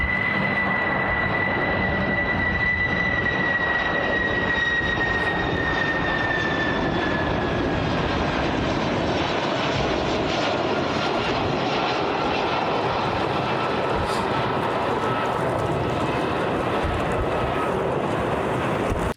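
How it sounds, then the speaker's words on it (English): Air Force One, a large jet airliner, landing in Calgary, its engines producing a loud, continuous roar with a high whine that slowly falls in pitch, heard nearby and steady throughout. "Air Force One and President Trump have touched down in Calgary."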